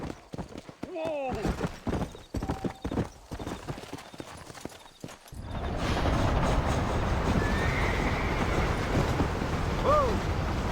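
In the Red Dead Redemption video game, a horse's hooves clip-clop rapidly at a gallop, then give way to steady rumbling movement with a whinny near the end, while a voice talks over the start.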